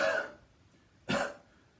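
Two short, breathy coughs, close and distinct, separated by a brief quiet pause during a Pilates and chi kung session.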